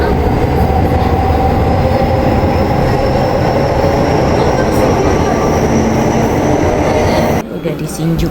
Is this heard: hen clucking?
no